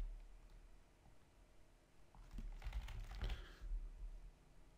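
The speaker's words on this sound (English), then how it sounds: "I keep typing wrong here" Keys clacking on a computer keyboard during a web-coding session, a quiet background patter that turns into a denser, louder burst of typing in the second half.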